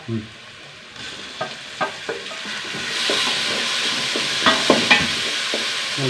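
Onions and tomato fry in a pan with a low, even sizzle, punctuated by repeated clicks and scrapes of a stirring spoon, close and fairly quiet, with no voices.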